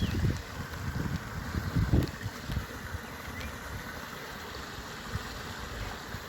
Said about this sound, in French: Il y a une petite cascade en amont.